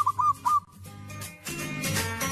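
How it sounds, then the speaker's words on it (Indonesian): A Javanese perkutut (zebra dove) gives a few short, clear whistled coos in quick succession, then fades under a soft tonal musical background. "Jenis burung perkutut Jawa dikenal memiliki suara yang merdu"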